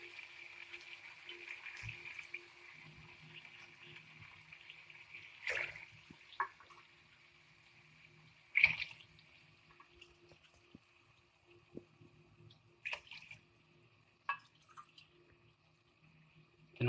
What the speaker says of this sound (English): 6 cups of water.